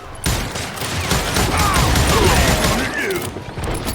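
Rapid gunfire rattles through a Call of Juarez: Gunslinger firefight on Nintendo Switch, a loud, dense run of overlapping shots and impacts with game voices shouting beneath.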